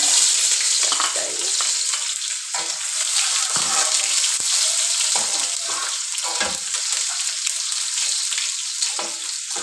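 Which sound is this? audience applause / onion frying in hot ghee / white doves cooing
onion frying in hot ghee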